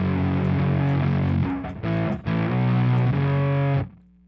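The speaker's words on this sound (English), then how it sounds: "It's just like a pillowy cloud of distortion." A single coil electric guitar rings out through dark, heavy, fuzzy distortion, sustained chords with a brief break and restrike before fading out, loud and alone.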